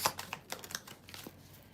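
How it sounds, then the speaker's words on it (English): Tarot cards shuffled messily during a live reading, a quiet run of soft, irregular papery clicks and flutters close by, denser at the start and thinning out. "That was a really messy shuffle."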